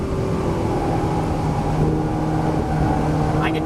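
Ferrari 458 Italia engine droning steadily from inside the cabin while driving, a sustained low tonal hum with a slight pitch shift partway through as the revs change.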